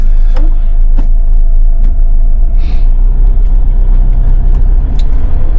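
A camping car creeps along at walking pace through a crowded area, its steady low engine rumble continuous throughout, with occasional brief hissing and clicking sounds over the drone.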